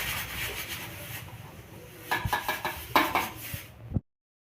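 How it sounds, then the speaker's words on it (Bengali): Papaya grated by hand, the flesh rasping against the grater in steady scraping strokes that grow louder and more pronounced toward the end, then stop abruptly. "মা চালতে পারবে না, তাই মাকে আমি পেঁপেটা চেলে দিচ্ছি"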